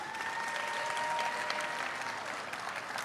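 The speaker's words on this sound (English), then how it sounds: "Can we give them a round of applause?" A crowd at an International Women's Day celebration gives a round of applause, steady quiet clapping heard from some distance with a faint tone briefly under it.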